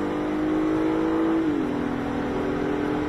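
Acura TLX A-Spec SH-AWD engine droning steadily on a night drive, its pitch dropping partway through as the automatic transmission shifts gear, then holding a lower steady hum.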